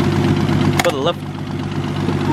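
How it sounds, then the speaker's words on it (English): A Nissan R33 Skyline engine idles smoothly and steadily at close range, holding an even mechanical hum with a light ticking from the lifters; a voice cuts in briefly partway through. "Bit of lift to tick there, but it's normal."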